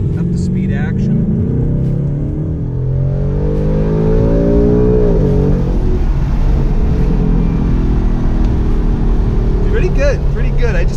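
A 2018 Ford Mustang GT accelerating up to speed, its engine note climbing steadily and droning loud and close throughout, with people talking over it inside the car.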